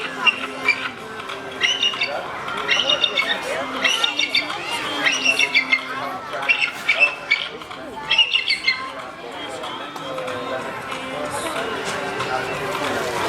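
A parrot at a Utah zoo squawks and chatters in a steady, busy stream of harsh calls and speech-like sounds, heard near and fairly loud with human talk mixed in.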